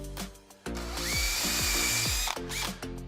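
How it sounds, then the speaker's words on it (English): A power drill whirs in a loud, steady burst, its pitch rising as it bores into a wood panel, with short bumps and knocks before and after. "drill in until it doesn't drill anymore"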